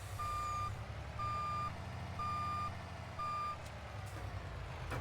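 Truck in Farming Simulator 22 idles with a low diesel rumble while a reversing alarm sounds four evenly spaced steady beeps, close and clear over the engine.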